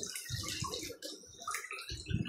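Small splashes and trickling water as dolls are bathed in a toy swimming pool, quiet and close, in a few short bursts.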